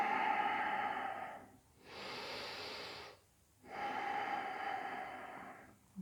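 Deep, slow breaths during a yoga class, heard alone and close: a long inhale, a brief pause, then a long exhale, repeated in an even rhythm.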